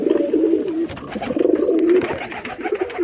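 Pigeons kept for sale coo close by in a few soft, throaty, rolling phrases, with light rustling and faint background noise between the calls and no talk.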